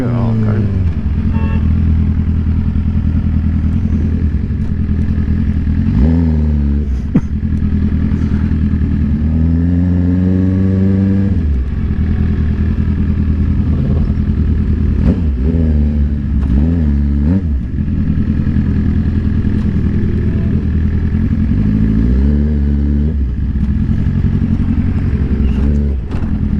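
Engine of a vehicle out off-roading, revving and surging repeatedly at mid pitch with rattling clatter, under ongoing chatter.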